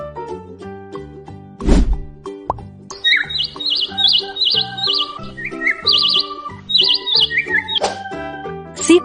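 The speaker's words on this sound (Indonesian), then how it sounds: "Burung kolibri." A hummingbird chirps in quick, high, repeated little bursts over light background music, with a couple of plopping hits; close and clear.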